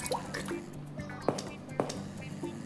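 Water dripping in the Mouse in the House VR game, a few soft, separate drips and splashy trickles close up, with faint background noise around them.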